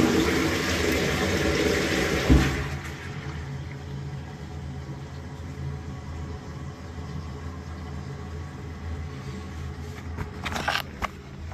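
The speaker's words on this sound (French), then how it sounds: "Lorsqu'on tire le chasse d'eau, est-ce qu'on reçoit de l'eau ou pas?" A wall-hung GROHE toilet flushes with a loud rush of water for about two seconds, then settles into a steadier, softer gurgling refill that continues to the end, with no talking.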